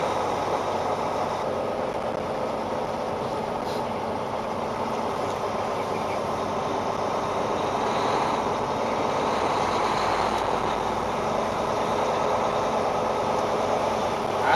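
Steady drone of a heavy haul truck engine under load on the highway, running empty, a continuous low rumble from inside the cab with no gaps.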